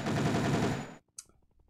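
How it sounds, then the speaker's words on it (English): A mounted machine gun in the video game Beach Head fires a dense, rapid burst for about a second and then stops abruptly. A single short metallic clink follows, with faint clatter after it. "they have changed this mounted machine gun"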